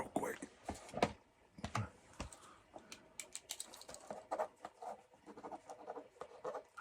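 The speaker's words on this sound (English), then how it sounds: "I want to write something down in your notes real quick" Pen scratching out notes in a quiet room, soft irregular scribbles and taps with a few sharper clicks, close and faint, with whispered speech-like sounds mixed in.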